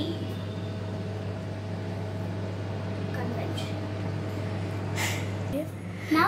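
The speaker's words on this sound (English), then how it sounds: "Now it's in the microwave." A microwave oven on convection mode, toasting cheese toast, hums steadily at a low pitch for several seconds, then a beep or click cuts in near the end.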